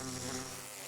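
A Minecraft bee buzzing in a steady, close, droning hum that holds evenly for under a second.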